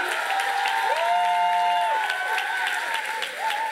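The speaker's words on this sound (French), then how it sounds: "On l'applaudit." An audience at a cultural gala awards night applauds first-year performer Fred Marquis: steady, dense clapping throughout, with cheering and voices ringing over it.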